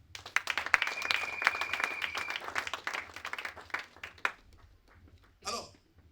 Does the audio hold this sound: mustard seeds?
no